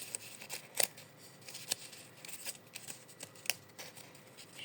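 A deck of makeup cards is shuffled by hand, quietly and close up, in a string of soft riffling bursts and taps with a few sharper snaps, and no talk.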